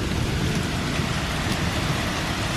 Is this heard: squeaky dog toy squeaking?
no